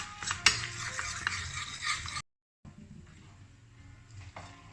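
Spoon stirring half a tablespoon of tomato paste sautéing in melted butter in a pan, soft scraping and faint sizzle with a few clinks, quiet and close, with a short silent break partway through.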